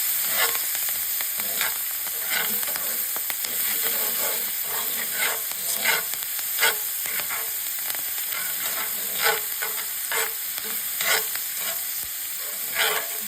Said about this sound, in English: So you scrape the bottom of your pan with all those juices.